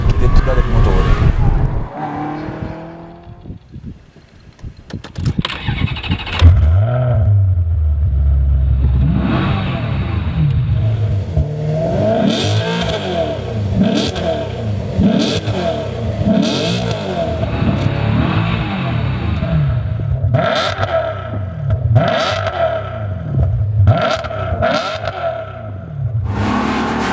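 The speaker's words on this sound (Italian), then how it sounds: "Sentite come gira, si riesce a sentire ogni singolo movimento dell'architettura del motore." A Maserati GranTurismo coupé's naturally aspirated 4.2 engine with a Supersprint exhaust revs hard through rising and falling sweeps, loud and close, with sharp blips and gear changes.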